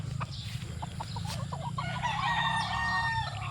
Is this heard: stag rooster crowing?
yes